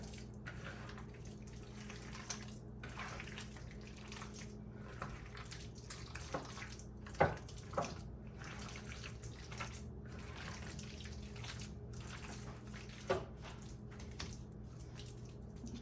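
Hands being washed under a running tap in a home kitchen, a steady soft stream of water with a few faint splashes and drips, heard alone without talk.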